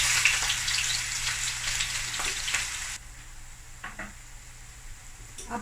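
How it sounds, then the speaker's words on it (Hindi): Sliced onion dropped into about half a cup of hot oil in a pan crackles loudly at first, then settles into a quieter, steady sizzle with a few light clinks. "एक मीडियम साइज़ मैंने अनियन लेके इसे स्लाइस कर दिया। मैं इसमें डाल रही हूँ।"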